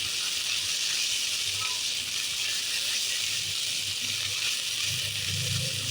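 Kachki fish fry in oil in a pan with a steady, loud sizzling hiss that holds evenly throughout, plus faint low clatter underneath.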